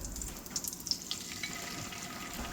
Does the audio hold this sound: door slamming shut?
no